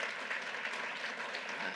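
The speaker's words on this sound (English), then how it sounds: "Let's give her a round of applause as well." Steady applause from an audience for New York's governor at a Chinatown announcement event in the NYC region, a dense, even clapping that fills the whole short stretch without pause.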